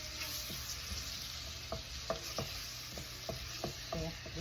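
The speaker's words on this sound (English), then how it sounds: "So we're gonna cook the tomatoes there for a while." Tomatoes cook in a pan for a cabbage dish with a steady soft sizzle, while a spoon stirs and scrapes at an uneven pace, several sharp clinks standing out near and clear. No one talks.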